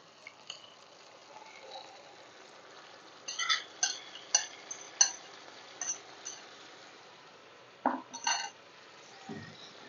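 Marinated drumsticks going into a pot for drumstick biryani and being stirred, with a series of sharp metal spoon clinks and scrapes against the pot, close by over a faint background, with no talking.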